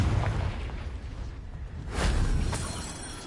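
Confringo fire-blast spell from Hogwarts Legacy bursting in two sharp, loud explosive blasts about half a second apart, over a dense rumbling game background.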